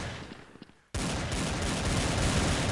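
Gunfire in the video game Blood Strike: after a quieter moment, a sudden loud burst of rapid shots begins and continues as dense sustained fire to the end.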